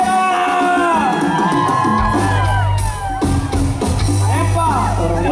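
A party crowd at a quinceañera celebration in Rancho Viejo, San Marcos, Guerrero, shouts, whoops and yells loudly over blaring music, with raised voices layered close and far throughout.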